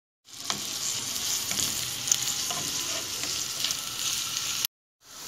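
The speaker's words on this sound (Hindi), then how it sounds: "अब प्याज को हम इसमें फ्राई कर लेंगे" Onions fry lightly in a pan as they turn brown, with a continuous crackling sizzle and a few stirring sounds for several seconds before the sound cuts off abruptly.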